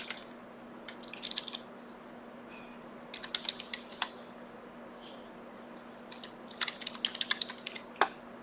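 Quick bursts of keystrokes on a computer keyboard, clustered in short runs with pauses between, close and fairly quiet over a steady low hum, no talking.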